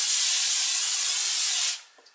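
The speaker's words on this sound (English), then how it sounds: "I'll spray it so it don't stick." A steady hiss of aerosol cooking spray onto aluminum foil for just under two seconds, close by, then it stops.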